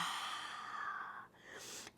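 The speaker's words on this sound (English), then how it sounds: "Open mouth, exhale" A single open-mouth cleansing exhale during a yoga breathing exercise, an airy breathy rush that fades after about a second, quiet and close.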